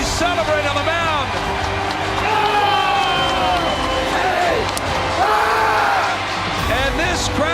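Baseball crowd in a stadium roaring after the Phillies win a playoff series over the Cardinals, a dense sustained cheer with whoops and clapping, and a commentator talking over it.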